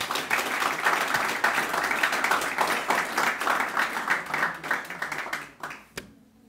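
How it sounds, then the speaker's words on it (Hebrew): An audience at a Hanukkah mussar lecture by Rabbi Ronen Shaulov in Ramat Gan applauds a benefactor with dense, lively clapping that fades out near the end, leaving a single last clap. "מגיע לו באמת כפיים, מגיע לו, מגיע לו"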